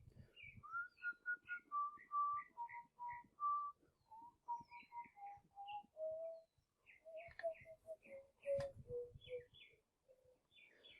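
A person whistles a slow melody of sustained, wavering notes that rise and fall in pitch, heard alone and fairly close during a pause in a maths lesson.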